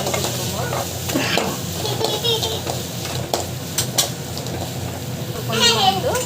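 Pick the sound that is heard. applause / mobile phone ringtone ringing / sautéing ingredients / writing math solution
sautéing ingredients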